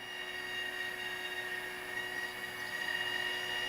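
An electric motor on a Europa N40SH aircraft whines steadily with a high, tonal hum as the propeller moves back and forth, close by and constant, with no voices.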